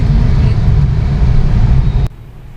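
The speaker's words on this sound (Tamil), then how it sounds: "ரோடு பூரா வந்து டிராஃபிக்காக இருந்தது" Heavy evening road traffic makes a loud, steady low rumble of passing vehicles that drops away abruptly near the end, with no voices.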